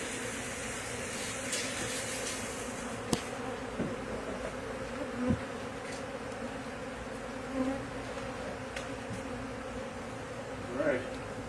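Angry bees swarm out of a hive built inside a house wall, a steady dense buzzing drone that holds close and fairly loud throughout, with a few brief knocks and rustles over it.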